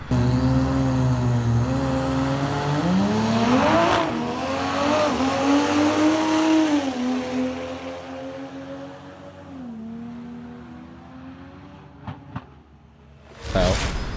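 A modified A90 Toyota Supra roars and revs hard through rising gear changes on a drag strip run, fading into the distance before a sudden loud whoosh at the end.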